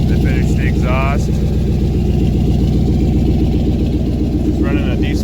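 A turbocharged EFI Ford 460 V8 with a used diesel muffler runs at a steady, loud, throbbing idle, close up, while people talk over it.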